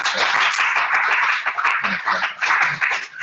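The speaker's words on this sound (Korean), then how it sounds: "우리 환영의 박수 여기 있는 분들 한번 같이" Congregation clapping in welcome during a church worship service, a brisk burst of many hands at close range, fairly loud and uneven, with some murmur mixed in.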